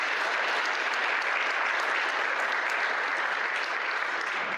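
A room full of people gives a round of applause, dense and even, with loud continuous clapping from start to finish and no talk over it.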